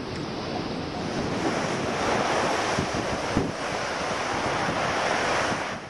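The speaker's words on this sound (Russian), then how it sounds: "Ветерок." Wind blows across the shore at the Beach of Cathedrals near La Coruña, Galicia, at low tide, buffeting the microphone in a steady roar over the broad rush of surf, with no voices.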